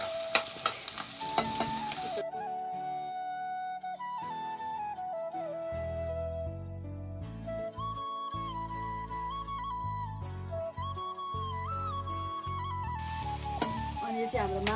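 Onions frying and being stirred in a pan, cooked Goa style, with a steady sizzle running throughout under tonal music; occasional scraping stirs stand out near the start.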